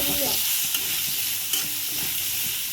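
Onions sauté with a broad, steady sizzle for a chicken dish, with a couple of faint utensil taps, and no talking.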